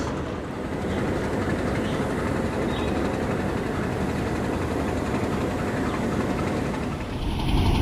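Pakistan Railways diesel locomotive 8041, class SBU20, hauling the Mehr Express, rumbles steadily at Rawalpindi railway station, with a continuous loud engine drone and low rail noise throughout.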